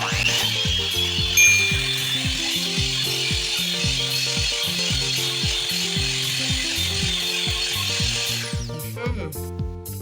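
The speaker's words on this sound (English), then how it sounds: "now we are going to blend this to mix the chocolate with this" An electric blender mixes chocolate into marble cake batter, a loud steady whirring motor with a rhythmic pulsing pattern that cuts off near the end, leaving a few clicks.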